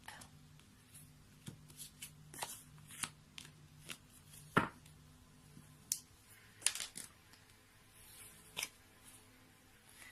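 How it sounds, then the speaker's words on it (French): A tarot deck being shuffled and cut on a table, with soft scattered card flicks and taps, a few sharper slaps standing out, quiet and close with little else around. "donc on va couper le jeu"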